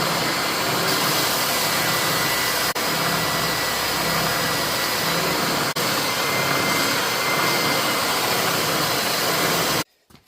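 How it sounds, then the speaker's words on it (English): A belt sander grinding JB Weld off a knife handle made from scraps, a steady loud abrasive roar running without a break until it cuts off abruptly near the end. "So let's head over to the belt sander."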